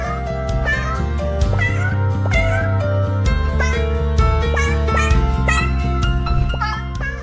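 Cat meows from a hidden cat video game, repeated bright meowing calls layered over a steady musical background, loud and close throughout.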